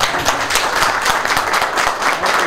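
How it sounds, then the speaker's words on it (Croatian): An audience at an association visit gives dense, continuous applause, with many hands clapping loudly and steadily throughout. "Možemo ga pozdraviti jednim aplauzom."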